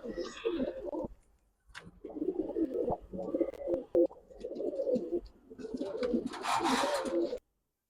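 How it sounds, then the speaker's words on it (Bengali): Male highflyer pigeon cooing for a taken-away female, repeated rolling coos close by with some clatter and a burst of rustling near the end; no talk. "মাদিটা নিয়ে গেছে আর ওর জন্য ডাক শুরু করে দিছে"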